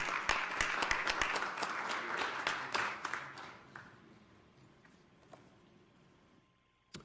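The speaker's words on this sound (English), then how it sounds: "Let's give Chad Smith a round of applause." Applause from the audience at a school board of education meeting, dense and fairly loud at first, then thinning out and fading to scattered claps over several seconds.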